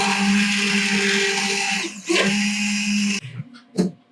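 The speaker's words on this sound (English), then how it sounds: "We'll put our immersion blender in there." A loud, steady whirring hum from an immersion blender pureeing roasted sweet potato and ginger soup in a pot, then it stops, followed by a few clunks and short noises.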